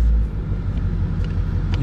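A 2021 Ford Mustang GT engine runs while parked, giving a loud, steady, deep rumble close by that holds without a clear rise in pitch.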